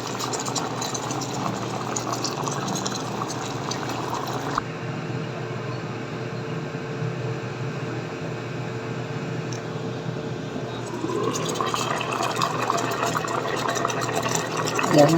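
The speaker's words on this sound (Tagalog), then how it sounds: "konting kulo na lang guys para maluto lang yung gata niya" Coconut milk sauce with tulingan fish simmering in a pot, a steady low bubbling hiss throughout, continuous and moderately close, with a brief quieter stretch in the middle before it swells again.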